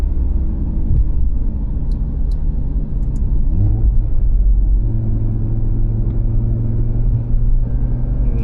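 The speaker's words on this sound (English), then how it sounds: "has that 5-cylinder sound that everyone loves." An Audi RS3 five-cylinder engine with Milltek exhaust and Eventuri intake drones steadily from inside the cabin, a deep throaty rumble with road noise, shifting pitch briefly as the revs change.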